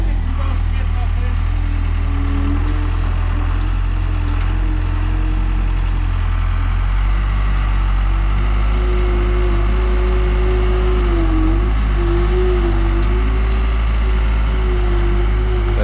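A skid steer engine runs steadily throughout while spreading gravel along a sidewalk edge, a loud low drone with a rising and falling pitch as it works, and a voice talks over it.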